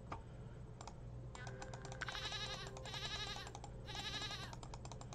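Goat bleating in the puzzle video game Rusty Lake Paradise, a few wavering bleats over a soft keyboard-like tapping and a low ambient game hum, with no talking.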